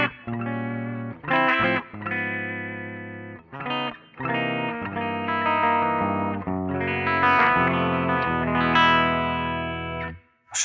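Electric guitar played through a JOYO GEM-BOX-III multi-effects processor on its clean '65 Twin' preset, sounding as bright, sustained chords and short phrases with gaps between strums, ringing out with a light shimmer and no voices.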